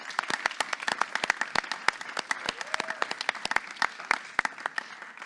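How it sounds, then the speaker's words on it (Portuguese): A small audience at a poetry podcast event claps, with sparse, distinct individual hand claps in an uneven rhythm that go on for a few seconds and are heard close. "Palmas para Sigo Som, por favor."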